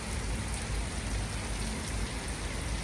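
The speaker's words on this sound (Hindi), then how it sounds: "बाहर का मौसम है तो बड़ा सुंदर, बूंदें पड़ रही हैं" Rain falls outside as a dense, even patter of drops on surfaces, a steady hiss that stays constant and fairly loud throughout, with no voices.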